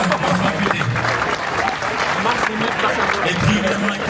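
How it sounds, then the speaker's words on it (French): Crowd applause at the Ironman Nice triathlon, a steady wash of clapping that holds for the whole stretch, with voices talking over it. "on peut les applaudir quand même"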